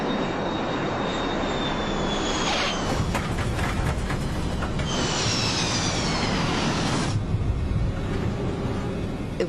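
The Uni Air 873 airliner roars loudly and continuously through its landing approach, with a broad engine rush and some whining tones rising and falling over it.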